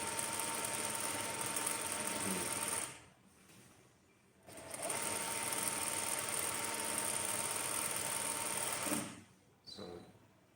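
Sewing machine running steadily while stitching men's trousers, a second line of stitching laid over the first along the back, loud and continuous with two short pauses where the motor drops off.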